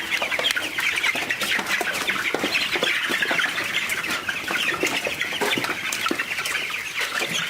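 A dense flock of chickens clucks continuously inside a poultry house at night, with many overlapping birds close by and an occasional flap of wings. No one speaks.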